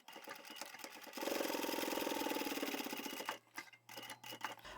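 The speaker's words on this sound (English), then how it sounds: "And we'll sew down here, along here, up there, and as usual I will sew another channel along here for a pen." A sewing machine stitches fabric and vinyl together for a handbag, its steady mechanical chatter running continuously for about two seconds in the middle, with quieter start-and-stop whirring before and after.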